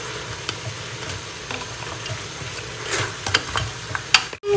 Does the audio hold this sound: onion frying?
yes